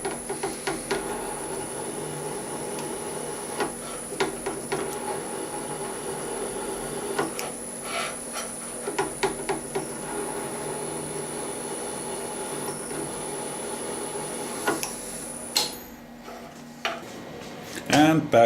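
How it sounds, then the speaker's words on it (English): A drill press cuts 60-degree counterbores with a steady machine whir and hum, broken by intermittent clicks and scraping bursts, then stops near the end. "I have a 60-degree counterbore over here in the drill press, and I set my depth stop"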